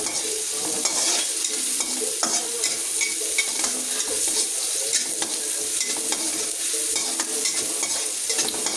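Eggs scrambled with tomato sizzle loudly in a hot pan while a utensil beats and stirs them in constant, busy scraping strokes over the continuous hiss.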